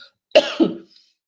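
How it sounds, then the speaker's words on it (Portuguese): A single close, rough cough in two quick bursts, heard alone in silence. "Desculpa, gente, que eu tô com uma tosse enjoada."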